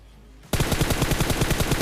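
Sudden rapid automatic gunfire in PUBG bursts in after half a second of quiet, a loud, evenly spaced stream of close shots that continues to the end.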